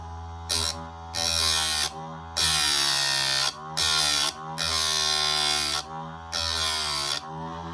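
Electric chainsaw sharpening grinder switched on, its motor whining in loud harmonic bursts that start and stop about five times as the grinding wheel cuts into chain teeth, with no talking.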